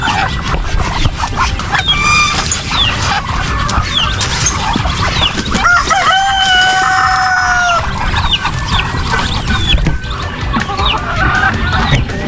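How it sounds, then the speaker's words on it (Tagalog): Chickens cluck and squawk close by among pet ducks, with a rooster crowing partway through over a busy farmyard background. "Papakain po tayo ng ating mga alagang pato, manok."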